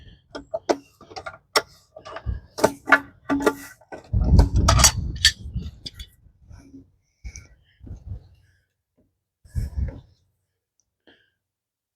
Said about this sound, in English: once you get it set to the right position and grip onto it, you should be able to slowly twist it out